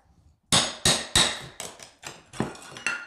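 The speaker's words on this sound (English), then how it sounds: "the best method I've had is just getting behind it down here where the bottom plate is and prying it out that way" Old baseboard is pried off a wall, with a run of about eight sharp, loud cracks and knocks, each ringing out briefly, during flooring work over existing tile.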